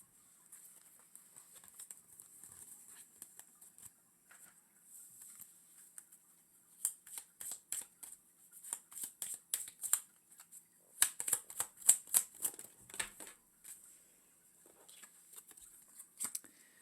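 Tarot cards are shuffled close up in quiet bursts, soft riffling flutters and rapid papery patters coming in clusters that build and fade, with no talk.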